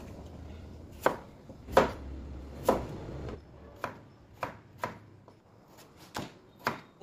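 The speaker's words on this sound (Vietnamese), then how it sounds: "Bây giờ mình sẽ cắt những cái nguyên liệu rau củ quả này ra." A knife chops through root vegetables such as radish and potato on a board for a pork rib stew, about ten distinct close thuds at an uneven pace, with no talking.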